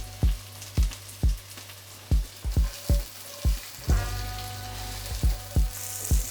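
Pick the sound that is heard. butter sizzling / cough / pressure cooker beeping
butter sizzling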